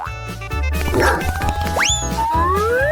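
Cartoonish dog yips and bow-wows in a comedic hospital prank sketch, mixed with boing-like sliding whistle effects and rhythmic low thumps, loud and close.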